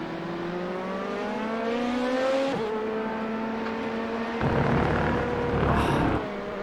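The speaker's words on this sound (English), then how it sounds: "Listen to his throttle." A race car engine in a video game, at Hockenheim, revs with rising and falling throttle, its pitch climbing and dropping in steady harmonic sweeps, with a rougher burst of noise near the end.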